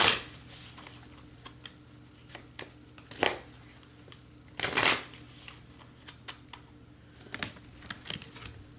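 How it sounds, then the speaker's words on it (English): A thick deck of playing cards split and shuffled by hand gives soft riffling bursts and flutters between quiet pauses, close and fairly faint. "This deck is so thick, I'm going to actually split it and shuffle."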